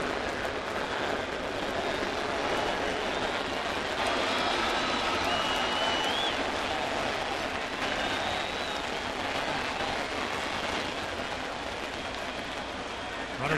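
A baseball stadium crowd at a Mets at Yankees game in May 2011 keeps up a steady, dense roar through the first inning, with faint voices mixed into the wash of noise.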